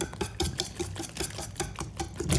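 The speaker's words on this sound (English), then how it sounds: "you whisk that up like crazy" A whisk beats crepe batter mixed with melted butter in a bowl, making quick, steady rhythmic taps and scrapes at a moderate level with no talking.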